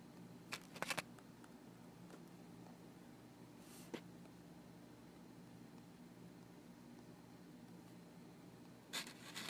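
Pen writing notes on paper, faint scratchy strokes over a steady room hum, with a few louder taps and rubs scattered across a quiet stretch.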